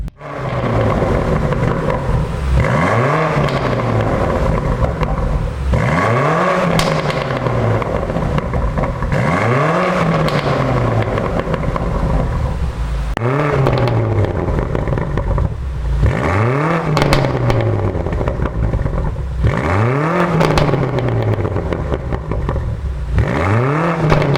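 A BMW G90 M5 V8 engine revs repeatedly in regular bursts, each rising and falling, with crackling popcorn-like pops from the exhaust between revs, loud and close.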